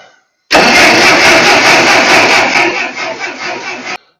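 A Ferguson TO-35 tractor engine with the choke pulled out cranks and catches, then roars loudly and steadily for about three seconds before cutting off abruptly.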